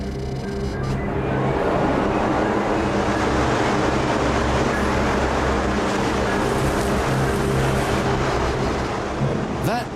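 A steady, loud rushing of air blown by an electric fan with a low mechanical hum underneath, constant for the whole stretch, close by.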